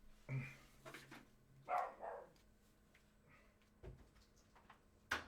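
A dog barks a few times at a distance in a room, short separate barks with gaps between them, with faint background noise and no talk over them.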